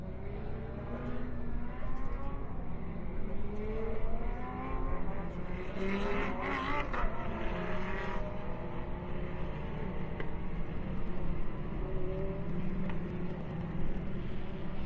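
GT Cup Series race cars accelerating at a restart behind the safety car at Autodrom Most, a loud, continuous engine roar with rising and falling revs as the field pulls away.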